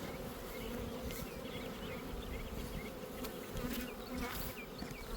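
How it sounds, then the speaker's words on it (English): A dense, steady swarm of honey bees buzzes around an opened hive during a summer hive check. The droning is continuous, and individual bees zip past the microphone now and then. "Look at all of those bees."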